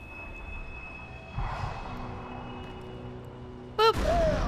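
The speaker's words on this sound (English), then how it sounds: "Don't hit the detonator until it's right on top of the train." A train is blown up by a detonator in Borderlands 2, heard as a sharp, loud blast near the end that rings on in a rumbling tail after a stretch of low game ambience.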